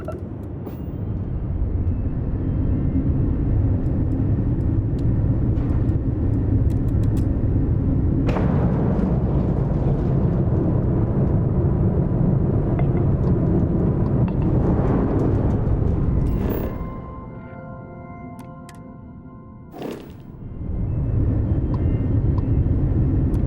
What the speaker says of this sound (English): Prototype ship, you are cleared for takeoff.